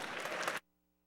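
Applause from the crowd at the SGDQ 2017 speedrun marathon for the tech crew, a dense burst of clapping that cuts off abruptly after about half a second into near silence.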